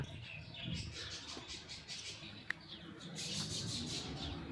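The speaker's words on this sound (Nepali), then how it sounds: "चराको आवाज सुनिँदैछ" Faint bird chirps and calls repeat over a low rumbling background at Marnong Estate, Mickleham, Victoria, with one brief sharp click midway; no one speaks.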